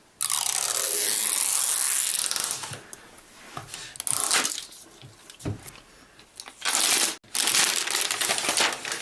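Loud, close crinkling and rustling of plastic wrap, with bursts of tearing and crunching as the zippered wrapping is pulled open and removed from an Apple Mac Pro.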